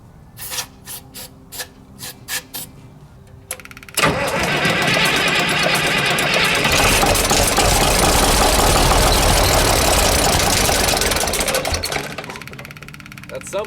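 An old tractor engine that had sat unused cranks after a shot of starter fluid, then catches and settles into a loud, steady, continuous running roar, preceded by a few short scraping and handling noises.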